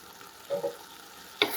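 Tomato, onion and cashew gravy poured onto cooked peas in a pan for methi malai matar, giving two brief soft splats followed by a sharper sizzling hiss near the end, quiet and close with no talking.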